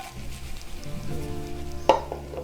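Okra frying with onion in a pan, a steady close sizzle that swells as the pan is shaken, with one sharp scrape or clink near the end.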